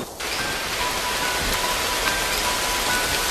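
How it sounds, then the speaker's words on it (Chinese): Heavy rain pours steadily beside an airport runway in Hong Kong, a dense, continuous hiss of downpour close by with no voices. "同样的大雨滂沱"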